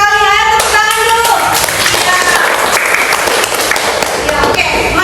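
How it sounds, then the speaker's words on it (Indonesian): A group of students applauds in a classroom, a steady burst of clapping with some voices calling out over it, loud and close for the whole stretch. "Ayo tepuk tangan dulu."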